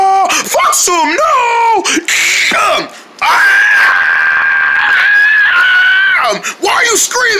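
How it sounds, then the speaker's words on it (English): Cartoon character screaming loudly, a long sustained shrill cry after a burst of excited, animated vocal shouts, close and intense throughout. "Why are you screaming?"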